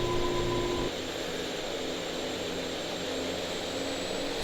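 Turboprop engines of the Aerosoft Bronco aircraft in FSX spooling up at takeoff with throttles full forward, a steady, loud droning roar with a high whine that holds constant, and no talking.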